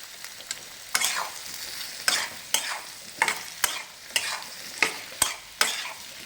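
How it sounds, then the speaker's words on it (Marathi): Potato sabzi with coriander being stirred in a hot pan, heard as regular, loud scraping strokes about every half second over a soft background sizzle. "मिक्स करून घेऊया भाजी व्यवस्थित कोथिंबीर पण टाकून घेऊया"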